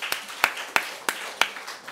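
A small group claps for a child in a church class: about six sharp, evenly spaced hand claps, close and fairly quiet, with no talking over them.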